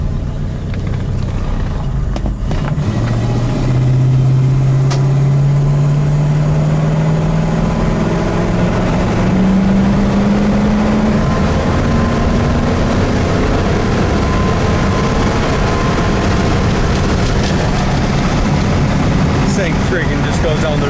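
A 1968 Mercury Cougar, an original car with 85,000 miles, drives down the road with a steady, loud engine note that rises in pitch as it accelerates in a low gear, with road and wind noise throughout.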